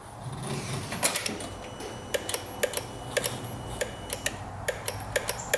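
Starter on a freshly rebuilt UTV clicking as the key is turned, a series of sharp, fairly regular ticks over a steady background hum, close and distinct.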